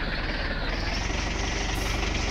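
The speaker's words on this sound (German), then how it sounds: "Und auch schon der Sound von deinen Traktoren" An old tractor engine in Farming Simulator 19 runs steadily with a loud, continuous, heavy diesel rumble and knocking throb that never lets up.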